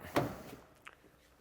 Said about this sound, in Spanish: Abriremos la puerta